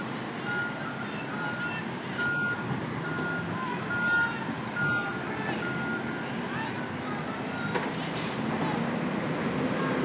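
Reversing beeps from a garbage truck at an outdoor encampment clearance, three short tone bursts set over a steady engine and street rumble, with distant voices underneath.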